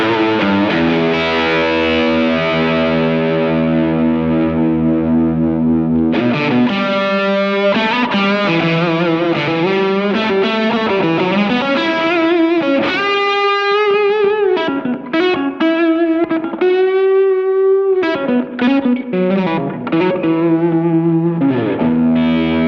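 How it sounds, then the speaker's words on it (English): Electric guitar through a Beetronics Abelha fuzz pedal on its mellow switch setting, giving a loud, thick, traditional fuzz tone: a long sustained chord followed by a busy run of single-note phrases and bends. "This sounds more like a traditional fuzz."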